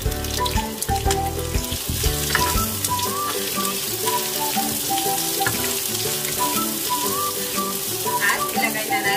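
Onion frying in a pan for spring rolls made with leftover grilled chicken breast, a continuous close sizzle running under prominent melodic background music throughout.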